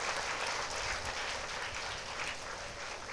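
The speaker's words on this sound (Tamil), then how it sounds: "ஒரு பெரிய கைத்தட்டு கொடுத்து நீங்க பாராட்டலாம்" An audience at a Tamil televised speech event applauds, giving steady, dense clapping that stays fairly even and moderately distant throughout.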